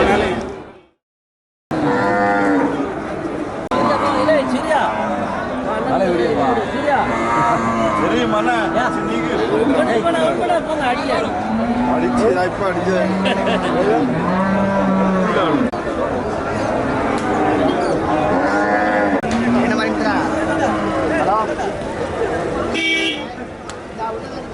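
Cattle low and moo at the Melapalayam cattle market, their calls mixed into steady, busy crowd chatter with occasional vehicle horns throughout.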